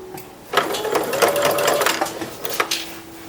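A sewing machine stitches flannel side seams on a 1930s–1940s toddler wrapper, its needle running in a quick, close mechanical whir that starts and stops in short bursts, loud and near, without speech.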